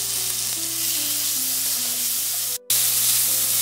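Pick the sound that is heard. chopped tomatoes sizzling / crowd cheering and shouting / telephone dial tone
chopped tomatoes sizzling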